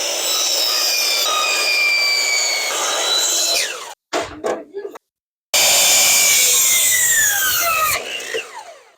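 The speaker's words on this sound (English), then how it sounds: "we're going to cut the block down to shape" A miter saw cuts down a wooden block, with loud sustained whining bursts that each end in a cut, separated by a short near-silent gap and some clatter.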